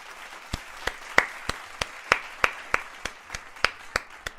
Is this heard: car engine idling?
no